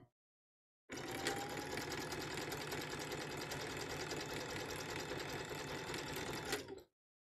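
A sewing machine runs continuously for about six seconds while stitching a large rope basket, giving a rapid, steady mechanical chatter that starts and stops abruptly, with silence before and after.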